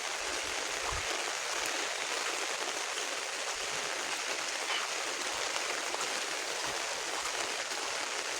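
Monsoon rain falls steadily outdoors near a bird's nest, a constant hiss of drops on leaves and ground with a few faint thuds and no voices.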